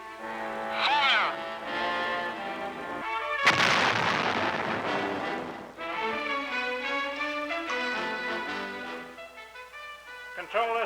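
An army tank gun fires at a target: one sharp, loud blast bursts out midway between radio-style voices giving fire commands before and after.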